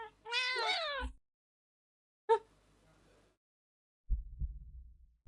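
Cats meowing in the video game Do Not Take This Cat Home, one long, loud, wavering meow, then a short sharp cry, and later a low thumping throb like a heartbeat.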